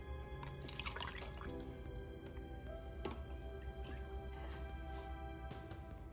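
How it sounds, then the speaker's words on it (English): Coconut milk poured into meal prep containers: faint, quiet trickling and dripping of liquid heard close up, with no one talking. "So I'm gonna put a cup of coconut milk in each container, or actually more about 3/4."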